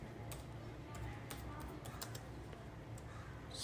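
Rapid clicking of keys on a computer keyboard as someone types an SQL query, a steady run of light, close taps over a low background hum.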